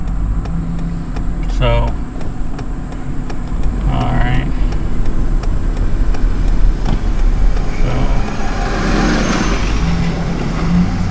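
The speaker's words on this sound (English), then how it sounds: "all this four-way traffic." Road traffic at a four-way intersection, cars and other vehicles passing near a 1999 Toyota Tacoma with a 3.4L engine, heard as a steady broadband rumble with passing swells and someone speaking over it.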